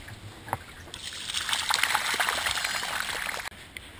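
Water from a fox-hide soaking bath pours and splashes steadily for a couple of seconds at close range, then cuts off abruptly, with a faint knock before and after.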